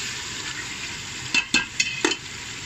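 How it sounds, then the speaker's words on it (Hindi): Masala for beef nalli nihari being stir-fried in a pot: a soft continuous sizzle with several sharp spoon-against-pot scrapes and clinks near the end. "इसको अच्छी तरह से भूनना है, तकरीबन 5 मिनट भूनूंगी ताकि इसके मसाले का जो कच्चापन है वो सारा ख़त्म हो जाए"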